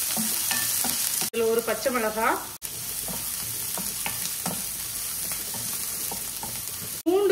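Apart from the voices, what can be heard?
onion sautéing in oil with mustard seeds and curry leaves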